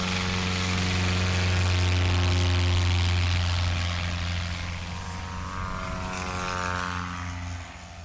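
A STOL propeller airplane runs up for takeoff at a short-takeoff competition in Gallatin, Tennessee, its engine and propeller droning loud and close, then the note shifts as it pulls away and fades slightly.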